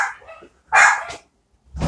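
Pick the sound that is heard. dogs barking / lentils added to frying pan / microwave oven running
dogs barking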